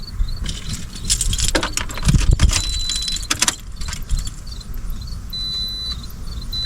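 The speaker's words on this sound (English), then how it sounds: "Next thing would be to turn on the key." Keys jingle and clack as one is inserted and turned, a brief metallic rattle over a quiet background hum.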